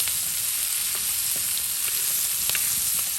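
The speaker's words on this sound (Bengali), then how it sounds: "দেখুন একদম মাটির চুলায় কত সুন্দর করে মাছগুলো ভেজে নেওয়া হচ্ছে" Pangas fish pieces sizzle and fry in oil on a clay stove, a steady close hiss with small crackles and pops throughout and no talk.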